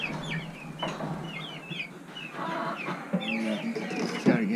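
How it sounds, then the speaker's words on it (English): Chickens in a coop cluck and squawk repeatedly in short, irregular bursts close by, several birds overlapping against a quiet background. "Come in here to the chicken coop."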